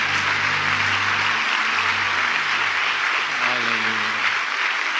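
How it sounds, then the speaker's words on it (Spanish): A church congregation claps for the Lord at the close of a Spanish-language service, a dense, loud wash of applause sustained throughout, with a faint sung or spoken voice rising underneath toward the end. "Denle un aplauso al Señor."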